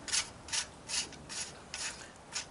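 A wrench removes the training wheel bolt from a small bike with back pedal brakes. About six rhythmic ratcheting strokes come close and fairly quiet, each a short gritty rasp.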